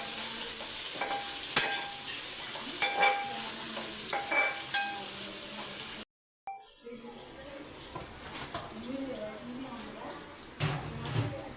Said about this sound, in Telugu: దోరగా వేగేంత వరకు వేసుకోవాలి దోరగా వేగించుకోవాలి